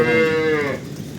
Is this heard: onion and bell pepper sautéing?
no